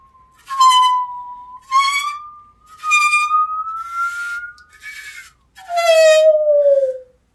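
Musical saw bowed in a series of sustained, wavering tones that slide slowly between pitches, several separate phrases with short pauses, ending on a falling glide; clear and close with no talking.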